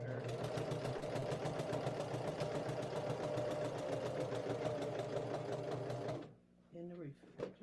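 A domestic sewing machine stitches a quilt with a fast, steady mechanical whir and rapid needle chatter for about six seconds, then stops abruptly, leaving brief quiet voice sounds.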